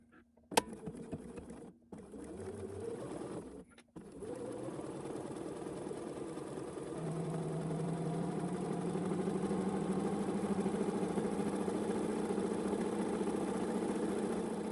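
Domestic sewing machine running a 3 mm straight stitch, a steady mechanical whir that starts abruptly, pauses twice briefly, then settles into a continuous, fairly loud drone to the end with no talking.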